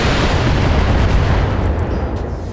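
Mech weapons fire and explosions from the BattleTech video game, with a Highlander mech firing on a Jenner: a loud, continuous barrage of deep booming rumbles that fades slightly toward the end, with no voices.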